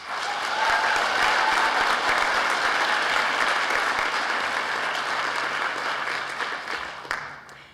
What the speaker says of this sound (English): We applaud you, Nyla.